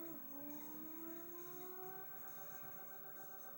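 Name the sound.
tire squeal in racing video game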